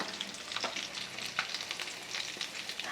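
Vegetable cheese balls fry in oil over a medium flame, giving a steady, close sizzle with crackling pops throughout and occasional louder spits.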